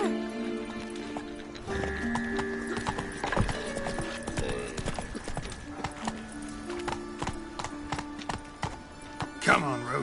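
A horse's hooves clip-clop in a steady galloping rhythm in the video game Witcher 3, with game music and speech over it and a whinny near the end.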